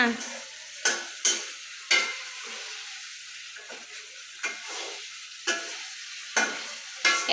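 Food frying in a pan on a stove while being stirred: a continuous sizzle broken by a series of distinct scraping strokes of the spatula, close and fairly loud.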